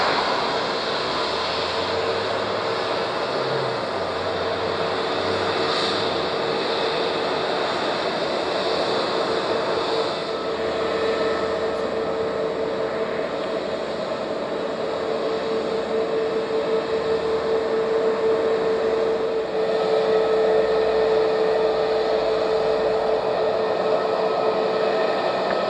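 A plane taking off from runway 05 at Madeira Airport gives a steady, sustained roar that holds loud and even throughout, with no voices.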